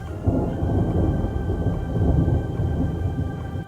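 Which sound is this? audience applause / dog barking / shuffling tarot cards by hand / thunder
thunder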